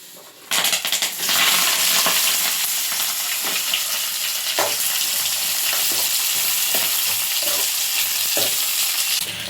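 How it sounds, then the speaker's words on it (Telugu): An onion mix drops into hot oil for a dhaba-style paneer tomato curry and bursts into a loud, sustained sizzle with hiss and crackle, punctuated by stirring scrapes, close up and without talk. "ఇప్పుడు ఈ ఆనియన్ మిక్స్ని ఆయిల్లోకి వేసుకుందాం"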